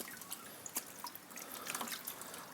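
Water drips faintly from a folded, wrung-out wash towel held over a bucket during a car bug-removal wash, a few soft scattered drops and a light trickle close by.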